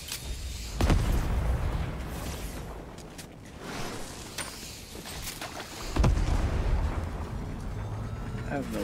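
Grenade explosions in a shooter video game, two heavy booms about five seconds apart, each a sharp blast with a rumbling tail over a continuous low drone and other gunfire cracks.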